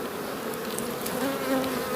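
Honey bees buzz around open beehives in Jamaica, a dense steady hum with individual bees passing close by, no voices.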